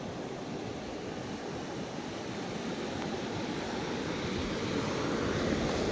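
Sea waves wash steadily onto Dwarka beach with a continuous broad roar of surf, mixed with wind buffeting the microphone, fairly loud and unbroken throughout.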